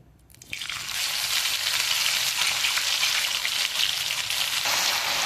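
Chopped ginger and garlic sizzle steadily in hot oil in an Indian home kitchen, a loud, close, continuous hiss with faint crackles and no voices.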